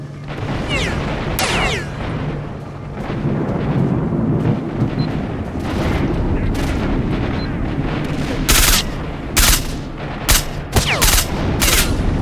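Rapid bursts of video game gunfire in S.T.A.L.K.E.R.: Shadow of Chernobyl crack from several directions, with sharp loud shots bunching together toward the end over a dense rumbling backdrop.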